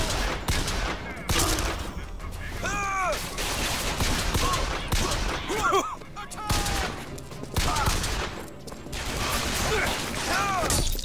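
Bursts of gunfire in the Bioshock Infinite video game, rapid volleys of shots and clanking mechanisms in loud waves, with voices talking in between.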